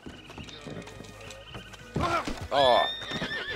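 A horse in a video game gives a loud whinny that rises and shakes, with hoof clops and other game sounds around it and a man exclaiming over it.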